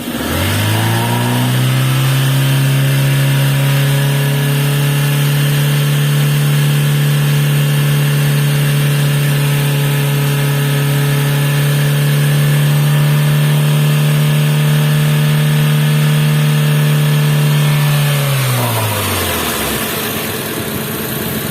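A car's engine revs steadily and loudly for about eighteen seconds during a radiator cooling fan thermoswitch check on an overheating car, holding a constant raised pitch before dropping back down to idle, with no talking.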